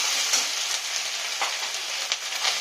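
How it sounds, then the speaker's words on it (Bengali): Ginger and garlic paste fries in a pan for a spicy fish curry, giving a steady, moderately loud sizzle with a few brief stirring scrapes and no talking. "আদা রসুনের গন্ধটা ভেজে একটু গন্ধটা চলে যাবে"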